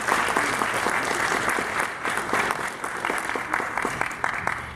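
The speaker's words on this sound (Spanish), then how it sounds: "Un fuerte voto de aplauso, por favor." A concert audience applauding a guitarist being introduced, sustained crowd clapping with distinct individual claps standing out, fairly close and even throughout with faint voices mixed in.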